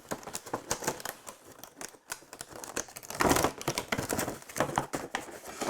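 Crisp clicks and crinkles of plastic packaging being handled during the unboxing of a Toy Biz Marvel Legends Mojo Build-A-Figure wave set. Close, busy bursts with a short pause midway and a louder crinkling burst just after.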